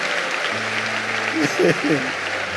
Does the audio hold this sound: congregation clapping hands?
yes